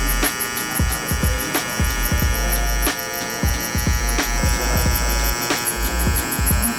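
Electric hair clippers fitted with a number 4 guard buzz steadily and close up during a burst fade haircut, the continuous motor drone broken by short rhythmic ticks as the blade passes through hair; no voices.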